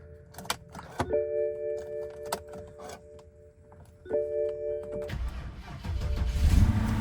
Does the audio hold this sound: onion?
no